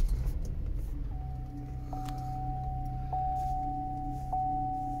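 A 2014 Chevrolet Equinox LTZ started with a key, a low steady engine rumble close by with a thin chime tone sounding in the cabin.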